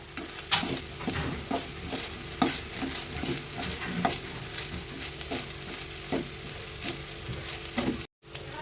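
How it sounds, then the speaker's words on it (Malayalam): A spoon stirs and scrapes grated coconut as it roasts in a hot pan for coconut candy. Repeated scraping strokes sound over a soft, steady sizzle, close and clear, with no talking. "ഇതിക്ക് നമ്മൾ തയ്യാറാക്കി വെച്ച തേങ്ങ ഇടും. എന്നിട്ട് നന്നായി ഇളക്കുക."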